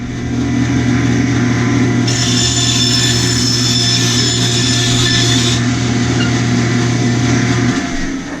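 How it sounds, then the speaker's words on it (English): A bandsaw runs steadily, cutting small scrap wood pieces, with a constant motor hum and a louder, brighter cutting whine in the middle stretch, close and loud with no talking. "I'm just going to go over and run them through the bandsaw"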